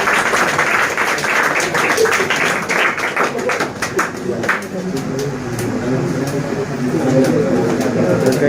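Audience clapping steadily at a coaching-centre felicitation event, dense and continuous for the whole stretch, with a host's voice talking over it.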